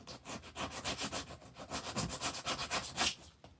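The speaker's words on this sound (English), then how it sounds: "I'll just take the sandpaper here and remove just a little bit off" Sandpaper rubs back and forth across a thin maple strip inlay for a guitar fingerboard, quick rhythmic scratchy strokes close to the microphone, about a dozen passes in steady succession with no talking.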